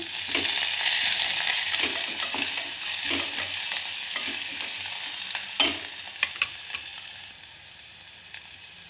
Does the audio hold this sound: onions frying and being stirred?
yes